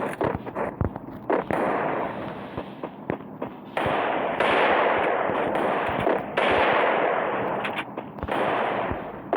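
Rapid bursts of gunfire from a shooting video game, with loud cracking shots and automatic volleys coming in clusters across the whole stretch, and no talking over them.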